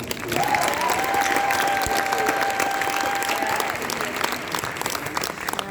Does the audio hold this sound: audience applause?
yes